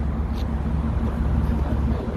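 A steady low engine rumble drones throughout with a constant hum from a Dennis Trident Euro 2 double-decker bus idling or cruising, heard from inside with no clear speech.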